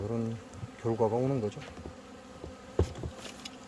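Hornets buzz close by, Vespa simillima together with small black hornets, a steady droning hum under someone talking, with wingbeat pitch rising and falling as the insects move around.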